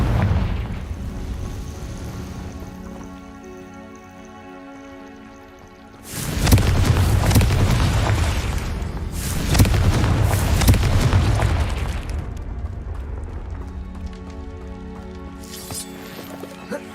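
Confringo fire spell exploding in Hogwarts Legacy: two loud, broad booming bursts, one at about six seconds and another near nine, each trailing off in a rumbling decay over a steady music bed.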